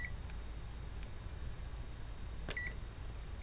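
A multimeter gives a single short continuity beep, preceded by a click, while a probe touches a TCL 50S455 TV power board; otherwise there is only faint steady background hiss and a thin high tone.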